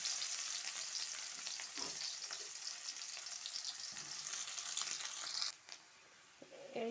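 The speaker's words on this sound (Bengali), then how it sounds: "এখন আমি এই যে পেঁয়াজটাও দিয়ে দিচ্ছি" Onions frying in hot oil with bay leaves in a kadai, a soft but continuous hissing sizzle with light stirring scrapes that suddenly drops away near the end.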